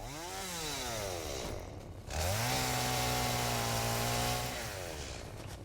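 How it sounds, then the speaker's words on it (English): Chainsaw in the video game Satisfactory, revving in two loud, sustained bursts with rising and falling engine pitch and a short drop between them, heard alone with no talk. "Chainsaw."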